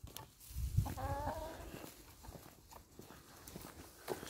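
Chicks inside their coop give soft, faint peeps and chirps, with a brief rising call early on, over quiet shuffling and scratching noises.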